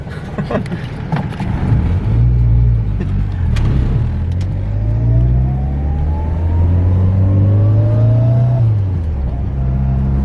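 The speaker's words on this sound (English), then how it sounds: "It sounds pretty stock, but it's a little bit drony because of the bigger exhaust" A Toyota Starlet engine fitted with individual throttle bodies and a bigger exhaust revs up and holds a droning tone, pitch rising and falling with throttle, loud and close, with a few clicks early on.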